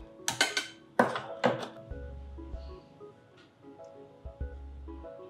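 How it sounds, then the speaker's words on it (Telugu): A metal wok (kadai) is placed on a gas stove, giving a few sharp clanks and knocks followed by low thuds and light handling noises in a quiet kitchen. "ఈ లోపల మనం మూకుడు పెడదాం."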